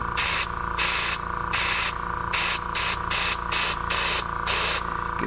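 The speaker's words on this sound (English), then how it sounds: "Get a nice heavy dress top coat on." Gelcoat top coat being sprayed onto a glitter-flake bass boat hull in repeated hissing bursts of about half a second each, broken by short gaps, close and steady over a constant low background hum.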